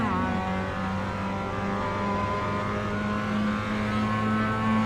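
Mazda MX-5 race car engine in the iRacing sim, a steady loud mid-pitched drone with sustained harmonics, holding revs throughout at close range with no talk.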